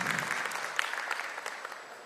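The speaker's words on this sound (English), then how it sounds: "A warm round of applause for Harish Garu." An audience claps at an ESG conference, a brief burst of dense, scattered applause with a few sharper individual claps, moderately loud and steady before tapering slightly.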